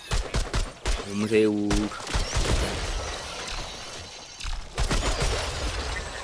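Gunfire in the video game Remnant 2, rapid bursts of shots in clusters at the start and again near the end, with someone talking over the action.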